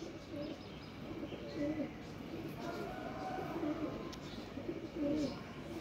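Low pigeon coos from a pair of breeder pigeons repeat about three times at a steady interval against a busy loft background, with a voice heard nearby.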